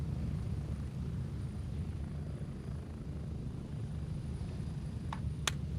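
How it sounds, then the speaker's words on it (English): Helicopter ride in the game Gray Zone Warfare: a steady, loud rotor and engine rumble drones continuously with no break, with a couple of brief sharp clicks near the end. "Sometimes the helicopter rides are cool."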